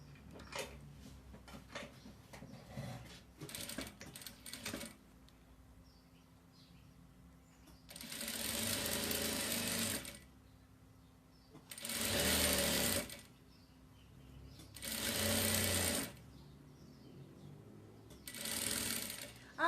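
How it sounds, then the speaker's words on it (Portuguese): A domestic sewing machine runs a simple seam on fabric for a child's overalls, buzzing in several distinct bursts of a few seconds each, separated by quiet pauses with small handling clicks, close and fairly soft. "Vou passar uma costurinha simples aqui"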